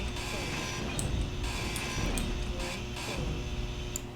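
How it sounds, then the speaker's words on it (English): A grinder in Space Engineers tears down blocks with a continuous harsh mechanical grinding, joined by periodic metallic clanks and brief high pings, while someone speaks over it. "So I'll go ahead and grind these"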